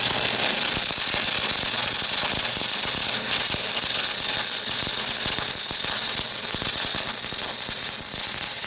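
An aluminum spool gun lays a weave bead in a weld. A loud, continuous buzzing crackle holds steady and close for the whole stretch, with no pauses.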